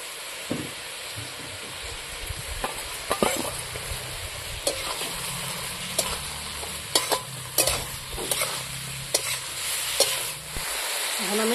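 A spoon or spatula stirs Bengali banana flower curry with boiled potatoes, fried rice and peanuts in a hot pan. Repeated scraping strokes come at irregular intervals over a continuous soft sizzle, and no voices are heard.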